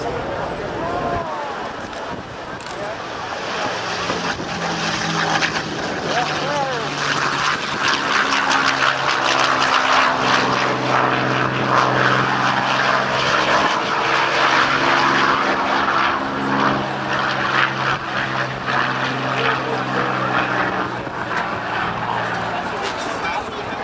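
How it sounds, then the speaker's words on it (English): A Packard-built Merlin engine powers a P-51 Mustang flown at an airshow at NAS Oceana, with a loud, sustained propeller roar and a steady deep drone that holds strong and close for the whole stretch while the plane climbs away. "I want you to listen to the sound of the Merlin engine built by Packard, the P-51 Mustang"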